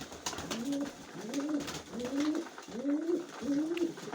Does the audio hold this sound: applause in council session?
no